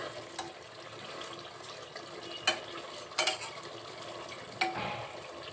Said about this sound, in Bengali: ভালো করে আবার নাড়াচাড়া দিয়ে আবার একটু ঢেকে দিচ্ছি